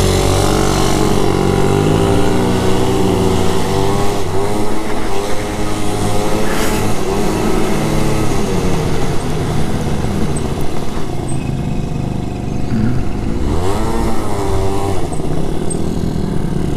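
A motorcycle engine revs loud and close throughout, its pitch swelling and falling in repeated throttle blips over a steady running drone, with no talking.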